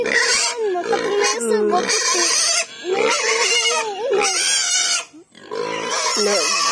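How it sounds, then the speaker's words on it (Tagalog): Young piglets on a farm squeal and grunt loudly in overlapping, wavering cries, nearly continuous with brief pauses, close by. "Ready na yung mga biik"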